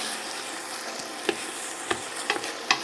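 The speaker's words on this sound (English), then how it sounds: "give it a good stir." Onions caramelize in a pot as the base for a marinara sauce. A soft, continuous sizzle runs throughout, broken by several sharp spoon scrapes and clacks as the mixture is stirred.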